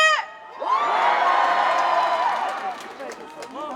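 A concert audience in the middle section at a ceramics festival's opening show erupts in loud, sustained shouting and cheering with whoops, rising after a brief call from a voice and fading slightly toward the end.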